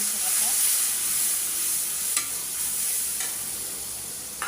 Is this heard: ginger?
yes